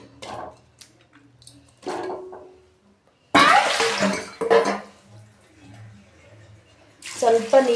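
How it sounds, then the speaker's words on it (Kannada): Water poured into a pot of lentils for brinjal and tomato sambar comes in short splashing bursts, separated by quieter gaps, and a voice talks in between. "ಬೇಳೆ ಎಷ್ಟು ಬೇಯಬೇಕು ಅಷ್ಟು ಮಾತ್ರ ನೀರು ಹಾಕೋತಾ ಇದ್ದೀನಿ"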